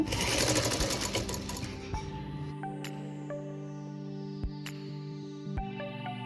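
A sewing machine stitches a fabric strip onto a small baby's garment, a dense rapid whirring burst at the start that stops, followed by a faint hum and a few sharp clicks and taps.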